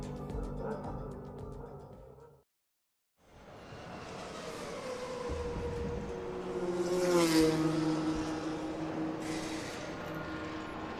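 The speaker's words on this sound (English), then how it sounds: "the first engine of the day has fired into life right below my commentary box" A Formula 1 car engine from the F1 2013 racing game idles and revs at a young driver test, heard steadily below a commentary box, with a brief cut to silence early on and a swelling rise midway.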